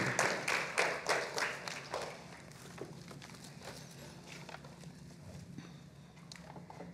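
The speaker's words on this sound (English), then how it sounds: "Would you all give them a round of applause as they head back to their seats?" A church congregation applauds as young people return to their seats after confirmation, a dense patter of clapping that is loudest at first and fades to a lighter scatter within about two seconds, with room murmur continuing after.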